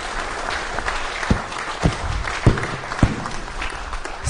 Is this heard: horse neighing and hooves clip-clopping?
no